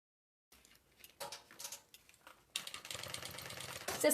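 A sewing machine stitching synthetic bias binding along the edge, with short bursts of rapid mechanical chatter that settle into a steady, close run of stitching.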